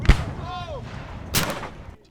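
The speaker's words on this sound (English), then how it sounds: "to hear the sound of a 12-pound cannon fired from above your home" A 12-pound cannon fires once, a sharp boom at the start followed by a fading rumble and a second burst of noise, heard at moderate distance with no speech.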